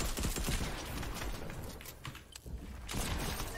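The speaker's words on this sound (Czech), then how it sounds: "Tady pořád někdo střílí, pořád." Gunfire in the battle royale game Fortnite crackles in fast, dense bursts, fairly faint and continuous, with a brief lull partway through before rapid shots resume.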